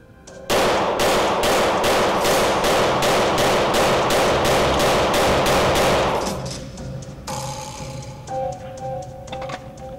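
Rapid, evenly spaced pistol shots fired with Crimson Trace laser grips from inside a vehicle, a loud string of about a dozen reports over six seconds, then fading echoes and faint clicks and rustling.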